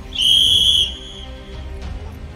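A single shrill whistle blast starts a women's lemon-and-spoon race at a festive gathering, loud and steady for about half a second, followed by low crowd murmur.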